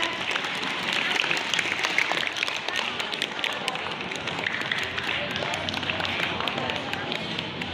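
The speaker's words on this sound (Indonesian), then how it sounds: "Tepuk tangan dulu dong semuanya." A school audience at a junior high literacy assembly in Bandung claps steadily and loudly throughout, a dense continuous patter of many hands with crowd noise mixed in.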